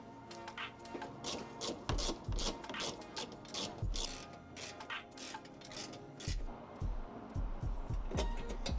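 Ratchet wrench clicking rapidly in repeated bursts while loosening the bolts on a car's headlight support bar, close and loud with metallic clatter between strokes.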